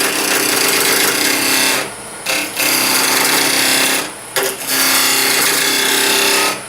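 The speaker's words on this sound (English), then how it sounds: "Get your anchor, bevel, slowly raise your handle, and then you can do a peeling cut." A wood lathe spins while a 1-inch Thompson gouge takes a peeling cut on a pencil cup blank, giving a loud, steady rough shearing roar that breaks off twice for short pauses and then resumes.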